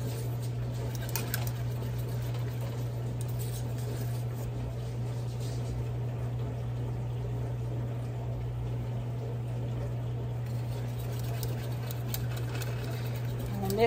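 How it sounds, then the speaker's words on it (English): A dishwasher runs in the background with a steady low mechanical hum and faint sloshing, continuous and unchanging throughout. "you hear my dishwasher in the background"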